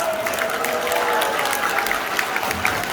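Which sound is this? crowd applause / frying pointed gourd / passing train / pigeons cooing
crowd applause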